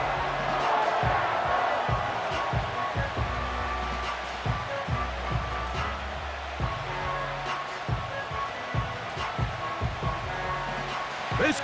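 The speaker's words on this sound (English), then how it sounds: "This crowd into it now as we get to 3rd down." Crowd noise fills a stadium in the Madden 25 football video game during a Bengals versus Packers matchup, a sustained roar with rhythmic thumping swells as the play nears third down.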